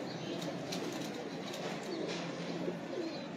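Pigeons cooing on a rooftop, soft repeated low coos over a constant hum of background noise, faint and steady with no talk.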